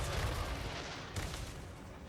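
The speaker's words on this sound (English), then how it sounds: "Nice dodge on the first volley from the Avalanche Mortars" A volley from Skaven Avalanche Mortars in a fantasy battle game rumbles as a dense wash of low booms and crackling blasts. It is loud and sustained, with a fresh thump partway through.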